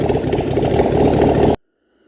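A car engine being cranked during an ignition system test, a steady loud churning drone for about a second and a half that cuts off abruptly into silence.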